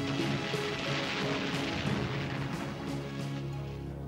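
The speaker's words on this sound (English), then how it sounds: "The British battleships open fire." British battleships open fire with a sustained wall of heavy naval gunfire, dense booming rumble and crackle filling the whole clip, loud and continuous like distant artillery or thunder.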